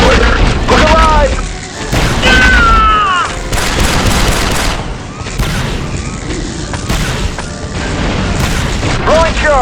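Heavy booms and blasts from a thermal detonator and gunfire in Star Wars: Republic Commando erupt repeatedly, loud and close, while commando voices call out over the fighting.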